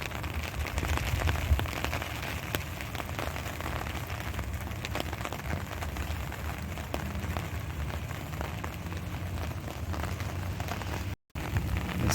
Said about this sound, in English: The steady downpour continues as I make my way back home.